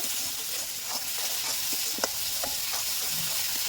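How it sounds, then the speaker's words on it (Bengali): Spices and turmeric powder fry in hot oil, making a loud, even sizzle and hiss, with soft scraping from stirring and one brief sharper clink midway, close up and without any talking. "হলুদ গুঁড়ো, সব মশলাগুলো একসাথে দেওয়া হয়ে গেছে, এবার সুন্দর করে কষে নেব।"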